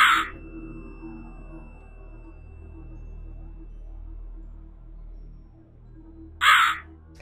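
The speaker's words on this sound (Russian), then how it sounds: "Нет, ворона." A crow in the video game Rusty Lake Hotel gives two loud, harsh caws, one at the very start and one near the end, separated by quiet ambient drone.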